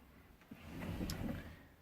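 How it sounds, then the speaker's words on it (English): A large pan drawer in a camper van kitchen slides on its runners with a faint sliding rumble and a soft knock, quiet and close, with no one speaking. "This is my big pan drawer."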